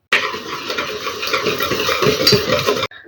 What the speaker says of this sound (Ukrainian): Для крему ми беремо 140 грамів цукру, додаємо 3 яйці і все ретельненько перемішуємо.